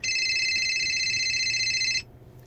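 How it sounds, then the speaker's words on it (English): A phone rings with a steady electronic tone that holds for about two seconds, then cuts off abruptly, leaving faint room noise. "looks like my phone's trying to ring over there"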